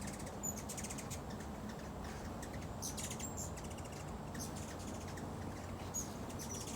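Small birds at a front porch feeder, likely hummingbirds, give faint, scattered high chirps and twitters over a steady outdoor background hiss, with no talking.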